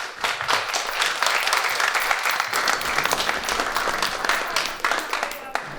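Applause at a Hepburn Shire council meeting on a local law, sustained clapping from a crowded room lasting several seconds, even and fairly distant, with some voices mixed in.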